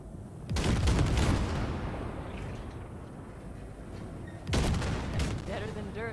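Tank cannon blasts in Cyberpunk 2077 strike wrecks, two heavy booming shots a few seconds apart, loud and close, each trailing off in a long rumbling decay.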